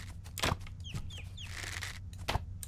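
Short clucking calls from a bird in the video game Ylands, scattered among a few sharp thuds and clicks over a constant low background hum, with no speech.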